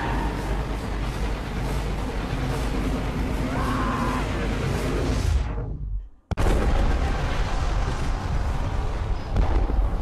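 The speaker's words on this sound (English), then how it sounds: "Why did turning off the power cause an explosion?" A loud, roaring blast rumbles through a Beyond: Two Souls video game scene after a power shutdown, dense noise that cuts to sudden silence briefly before the rumbling resumes at full strength.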